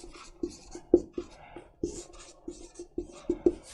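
Chalk or marker strokes writing trigonometric maths formulas on a board during a lecture: a run of short, close taps and scratches in an uneven rhythm, fairly quiet, with no talking.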